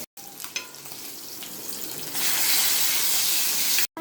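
Thanjavur-style fish fries in a pan with a dense, steady sizzle that grows louder and brighter partway through, close and continuous with no talking.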